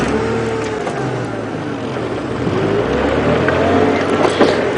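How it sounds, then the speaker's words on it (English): A tractor engine drones along a dirt road on an early-morning safari drive, a steady mechanical hum with a slowly shifting pitch that grows slightly louder over several seconds. "the tractor."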